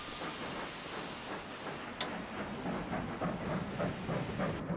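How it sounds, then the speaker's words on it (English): A freight train rolls along in the railway game Sid Meier's Railroads, a steady hissing, rushing rumble with faint rhythmic clatter and one brief bright ping, moderately quiet and continuous. "Ooh, this is a great little freight train."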